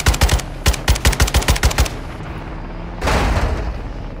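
Light machine gun fire in Call of Duty: Modern Warfare II rattles in two rapid, loud bursts of about a dozen sharp shots. A rumbling impact and rushing noise follow near the end.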